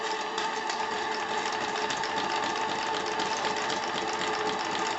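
Small steam engine driving an articulated paddle-wheel machine, running steadily after a restart with a dense, continuous mechanical chatter and hiss, close and moderately loud, no talk.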